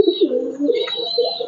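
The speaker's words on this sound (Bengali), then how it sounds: "ছাদের ভিতরে এইভাবে পালছি আমি কবুতর" Pigeons in a rooftop loft give soft, close, repeated throaty coos with a faint high chirp over them, with no voices.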